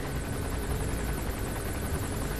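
A helicopter in Metal Gear Solid 5: The Phantom Pain: a loud, steady whirring rotor chop with a rapid pulsing beat, close and constant throughout, heard alone without talk.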